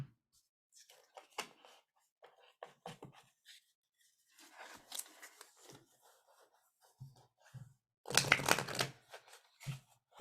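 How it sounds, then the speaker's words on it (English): Tarot cards being split and shuffled by hand, with soft intermittent riffling and rubbing bursts at close range, including one longer, louder riffle near the end, and quiet gaps between. "I'm splitting them and shuffling."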